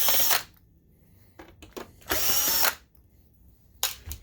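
A power screwdriver whirs in short close bursts while backing out two screws from the back panel of a Sim2 Domino 20 DLP projector, with brief quiet gaps and small handling clicks between runs.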